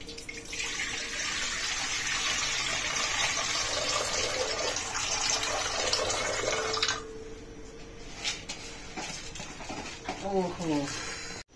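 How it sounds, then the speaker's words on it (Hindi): Water gushes steadily from a pot of soaked rice being drained for kheer, a loud splashing stream for several seconds before it stops, followed by clinks and a voice. "ये पानी गिराना पड़ेगा"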